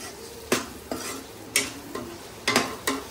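Meat bones are stirred into a masala frying in a pan. Six sharp scrapes and clatters of the spoon against the pan come at irregular intervals over a low background sizzle.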